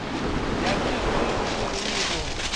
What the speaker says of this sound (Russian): Ветер немножко дует, вы, наверное, это слышите.